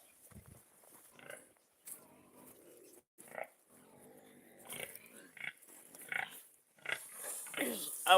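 Pigs of a local indigenous breed on an integrated countryside farm, giving scattered grunts and squeals at moderate distance among quiet farmyard background, with occasional louder bursts toward the end.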